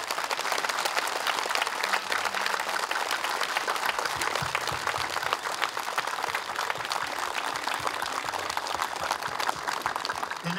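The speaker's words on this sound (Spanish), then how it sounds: "vamos a brindarle un minuto de aplauso al amigo Nabor Cruz" A crowd at a village fiesta in Santa María Coatlán gives sustained applause, a dense and steady roar of many hands clapping for the full length.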